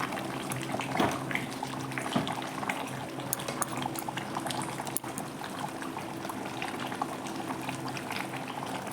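A red chicken curry (murgir jhol) simmers in a pan, giving a steady low bubbling and sizzling hiss throughout with a few sharper pops and clicks, close and moderately quiet, with no talk.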